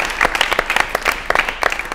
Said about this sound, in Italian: Applausi scroscianti